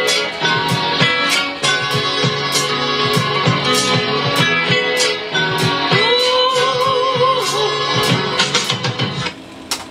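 A sampled music track plays loud and continuous from FL Studio, with steady beats and a sustained melodic layer, including a short snare drop within the sample.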